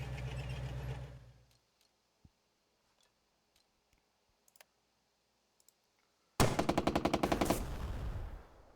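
Rapid machine-gun fire rattles in the Burden of Command war strategy game, starting with a loud burst that fades, then after scattered faint clicks a second sustained loud burst of automatic fire.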